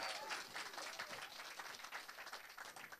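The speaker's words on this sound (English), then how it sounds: "Another round of applause, please" Studio audience applauding a Punjabi singer at a live interview show, a dense steady wash of many hands clapping throughout, fairly faint and heard alone.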